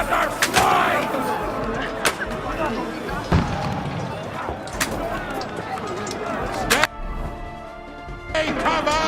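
Gunfire in the video game codename:GHOST, with sharp shots scattered among a dense battle din, heard under continuous shouted voices.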